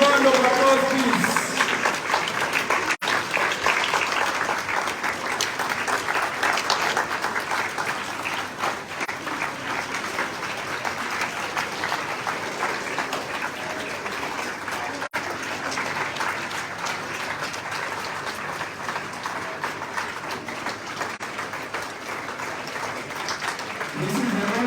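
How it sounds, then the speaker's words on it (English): Applause from the audience at a medical conference in Mombasa, Kenya, greeting the 2023 graduating fellows: a steady, dense wash of clapping that runs the whole time at a fairly constant level, with voices and cheers mixed in. "A big round of applause, please."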